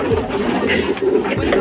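Racing pigeons cooing close by in a loft, soft low throaty coos repeating under faint background noise.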